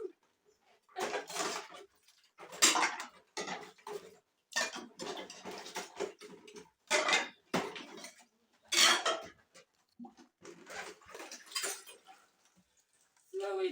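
Plates and dishes rinsed by hand in plastic basins with no tap in a village kitchen: bursts of clinking crockery and splashing water come in irregular spurts between pauses, with a voice talking at times.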